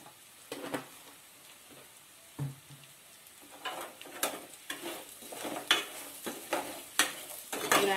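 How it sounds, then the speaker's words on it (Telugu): Egg fried rice with turmeric and salt is stirred in a pan, a series of irregular scraping strokes and taps over a soft background sizzle, growing busier toward the end. "ఇవన్నీ ఈ ఫ్రై పట్టే విధంగా ఒకసారి కలుపుకోవాలి"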